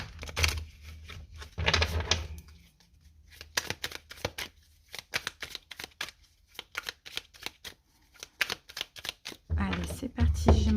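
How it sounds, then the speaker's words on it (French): Tarot cards are shuffled with a couple of riffling bursts, then laid down on a table in a run of quick, crisp, close slaps and taps, with another shuffle at the end. "Je vais poser les 5 cartes."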